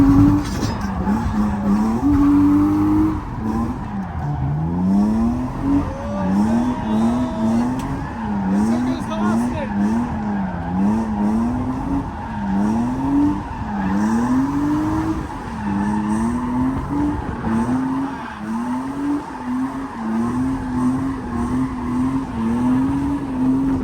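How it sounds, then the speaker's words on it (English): A drift car spins donuts on a beach, its engine revving in a steady wavering drone while the tires skid and squeal continuously and loudly, close by, with voices faintly underneath. "we also did a donut in Clyde's car"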